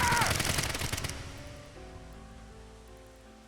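Rapid burst of automatic gunfire in the video game AI: The Somnium Files, a dense loud rattle for about a second that fades into a lingering echo and low ambient hum.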